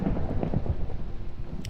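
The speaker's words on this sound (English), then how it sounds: "We have a pretty good thunderstorm." A thunderstorm in the Minecraft video game, a deep steady rumble of thunder with heavy rain hissing over it, loud and continuous, with no talking.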